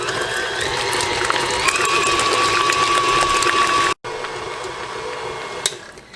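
An electric mixer beats room-temperature cream cheese and butter together for a pound cake, a steady mechanical whir with a sustained whining tone, briefly cutting out and then resuming at a similar level.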